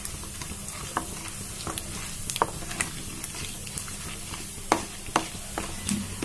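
Mustard seeds and a little cumin fry in hot oil, giving a soft, continuous sizzle with scattered sharp pops and crackles, fairly quiet and close, with no talking.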